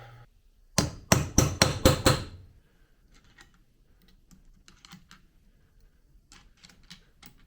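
An impact wrench fires several quick, loud rattling bursts while tightening bolts on a 2004 Honda CRF150F engine during a rebuild, followed by faint clicks and light workshop handling noises.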